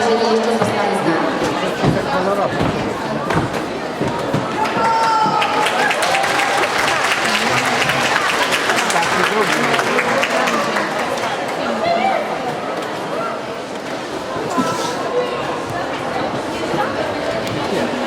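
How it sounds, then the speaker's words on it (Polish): Sustained, loud applause from an audience after the Impact Pasja dance school performance, a dense crowd clapping with murmured chatter for the full length, easing slightly toward the end. "Ogromne oklaski Impact Pasja"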